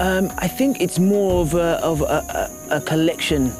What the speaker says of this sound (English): You can hear the buzzing of the insects in the background.